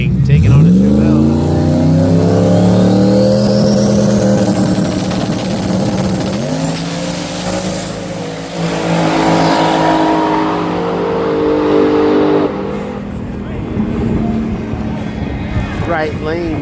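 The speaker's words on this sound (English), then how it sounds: "Mustang taking on a Chevelle." A Mustang and a Chevelle drag racing at a strip, engines roaring loudly as they rev up and accelerate hard down the track, the pitch climbing and sweeping, with a brief dip before another surge and fade.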